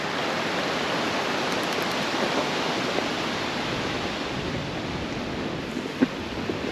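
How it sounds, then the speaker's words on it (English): A mountain bike rolls through a woodland creek crossing at Bear Creek, with a continuous broad rush of splashing, flowing water, loud and close throughout, and a faint click near the end. "here's something I don't get to do often. The true creek crossing."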